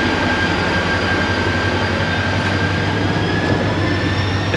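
A Karachi Circular Railway local train pulls out of Shah Abdul Latif station, a loud steady rumble of wheels and carriage noise with a faint high squeal running throughout.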